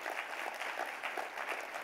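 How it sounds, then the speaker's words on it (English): A room full of people applauds at a chiropractic vision talk, dense even clapping at moderate distance for a couple of seconds. "Give yourselves a round of applause."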